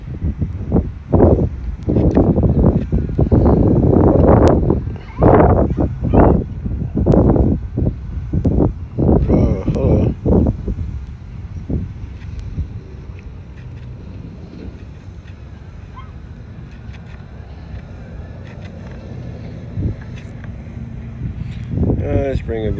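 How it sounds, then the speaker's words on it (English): Gusty wind buffets an iPhone SE microphone in loud, irregular bursts, easing to a quieter rumble midway before gusting again, with talking at times. "It is quite windy."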